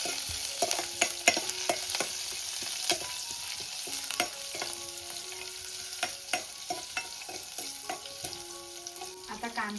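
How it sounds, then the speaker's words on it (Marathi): Curry leaves and green chillies frying in a pan for a spicy shrimp curry, with a sizzling hiss under repeated sharp clinks and scrapes of a spoon stirring against the metal. "कढीपत्ता हे जरा परतून घेते"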